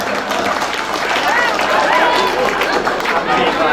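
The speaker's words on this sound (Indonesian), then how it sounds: "Kasih tepuk tangan untuk tukang jahit" Lively audience clapping and crowd noise at a Maulid Nabi lecture in a mosque, continuous and fairly loud, with voices and chatter mixed in throughout.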